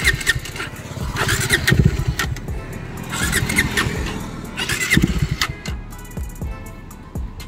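A 2022 Bajaj Dominar 400 BS6 motorcycle fails to start, giving three separate bursts of cranking with sputtering engine turnover close to the listener and brief pauses between the tries.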